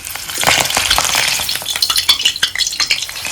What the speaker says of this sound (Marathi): आपल्याला हिरवी मिरची तळून घ्यायची आपल्याला